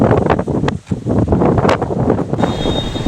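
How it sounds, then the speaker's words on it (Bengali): A breeze on top of Vattakottai fort near Kanyakumari, loud gusty wind buffeting the microphone in uneven surges with a brief lull near the start, no one talking. "এত সুন্দর হাওয়া দিচ্ছে"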